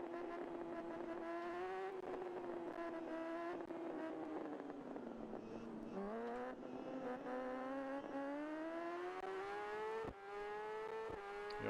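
Kawasaki racing motorcycle engine in RiMS Racing, a continuous loud high-revving whine rising and falling through gear changes, close and alone.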